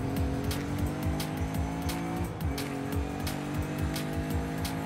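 A Volkswagen Golf drives in Forza Horizon 5 during a sandstorm, its engine droning steadily with a pulsing rhythmic whine and occasional tire noise, loud and continuous throughout.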